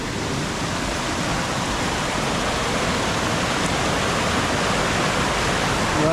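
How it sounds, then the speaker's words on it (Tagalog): Rushing water pours loudly and steadily at a cold spring resort, a dense unbroken roar of flowing water close by with no pauses throughout. "Dito pala yung papuntang tubig."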